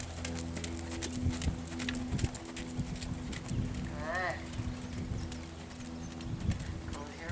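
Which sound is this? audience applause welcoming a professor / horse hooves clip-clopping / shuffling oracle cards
horse hooves clip-clopping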